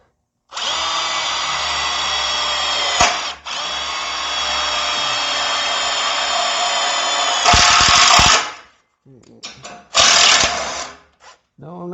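A power drill drives screws into the rear frame of a 1955 Chevy during a back-half frame replacement. Several loud, close whining bursts run seconds at a time, and the motor winds down between them.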